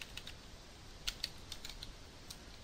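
Quiet, irregular clicks of fingers typing on a computer keyboard, a handful of light keystrokes spaced unevenly over a soft background hiss.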